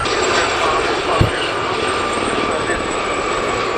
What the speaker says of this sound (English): The pilot breaking away there incidentally to the solo was Gazelle 4 Jim Richards.